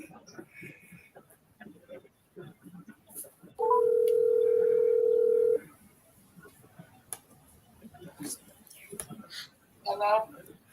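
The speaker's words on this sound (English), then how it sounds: "Let me call Selena." A steady electronic telephone tone plays loud and clear for about two seconds while someone places a call on a phone. Short beeps follow, with speech before and after the tone.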